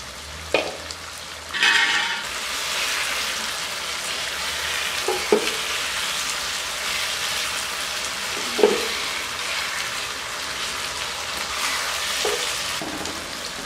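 Fish masala curry (machli ka salan) cooks in a covered pan with a steady, close sizzle and bubbling, broken by a few soft clinks and knocks.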